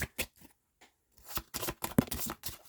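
Tarot cards being shuffled by hand in short riffling bursts with brief pauses between them, close and fairly quiet.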